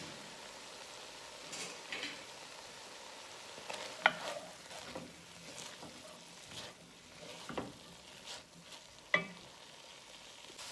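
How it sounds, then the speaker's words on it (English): Chopped onions and peppers fry quietly in a pot, a soft steady sizzle broken by occasional scrapes and clicks of a utensil stirring, faint and without talk. "I'm gonna add in the chopped onions and the chopped pepper, and go ahead and stir that around until it is translucent"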